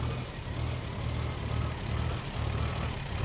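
A steady low engine rumble runs throughout, a turbocharged 4.8L Toyota 1FZ engine idling on a dyno with constant low-frequency drone and no knocks, fairly loud and continuous.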